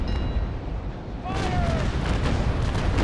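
Ship cannons firing during a Naval Action port battle at Isla Morada, Spain against pirates: a heavy boom rolls in after a quieter stretch, followed by sustained rumbling fire and whistling tones, with voices talking over it.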